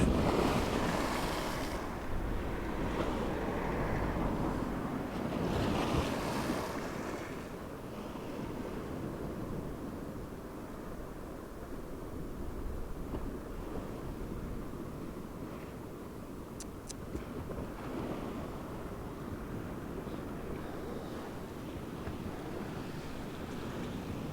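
Rough sea at Şarköy in November: heavy surf washes and breaks close by, heard as a continuous roar with strong wind buffeting the microphone. Louder surges come early on, then the sound settles to a steady churn.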